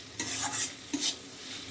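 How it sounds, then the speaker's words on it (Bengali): Spices sautéing in a pan for egg bhuna: a soft, close sizzle with two distinct stirring scrapes across a short moment. "মশলা সুন্দর করে কষাবো, তারপর ডিম দিব"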